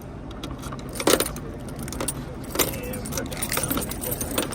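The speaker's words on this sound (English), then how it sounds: "it's the green key that gets in the trailer" A set of keys, one of them a green trailer key, jangles and clinks in a few short bursts near a car, while a person talks over it.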